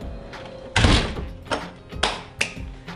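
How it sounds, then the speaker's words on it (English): A door is shut with a sharp, fairly close thud, followed by several lighter knocks and taps in quick succession, with no talk. "You simply shut the door."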